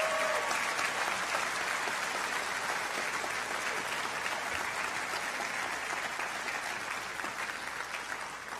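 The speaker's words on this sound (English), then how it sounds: "if we can give a round of applause to these educators here and what they've done" An audience at a graduation ceremony applauds its teachers: a steady, dense wash of clapping from many hands, sustained throughout and fading slightly at the close, with no voices over it.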